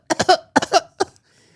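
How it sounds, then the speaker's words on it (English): A man coughs in three harsh bursts, two quick clusters of hacking coughs followed by a single shorter cough, close and loud against a quiet background. "He's got a bad cough."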